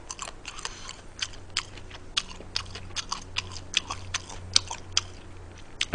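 Loud, close chewing of chicken with wet smacking and sharp crunchy bites repeating in an uneven rhythm, no talking.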